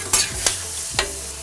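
Chicken stir fry with a generous pour of soy sauce sizzles on a Blackstone griddle, a steady hiss broken by a few scraping stirs of a spatula, close and loud with no talk.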